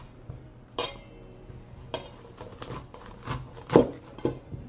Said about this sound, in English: See, I just scraped from the sides.